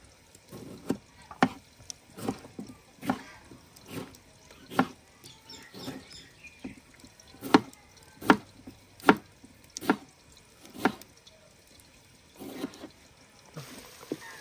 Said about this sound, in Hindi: अभी हम काट लेंगे टमाटर